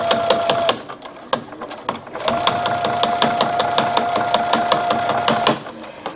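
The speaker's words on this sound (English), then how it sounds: "So I recommend you start at the seam, one of the side seams, and just begin to stitch." A sewing machine stitches along the side seam of a bucket hat, fast rhythmic mechanical clatter with a steady whine, stopping briefly before running on loudly and close.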